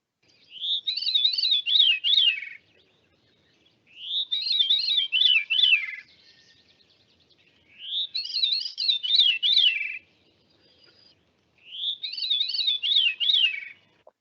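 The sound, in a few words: original field recording of a bird call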